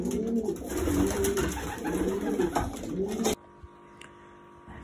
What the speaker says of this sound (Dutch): Zo, de oude duiven zijn weer thuis.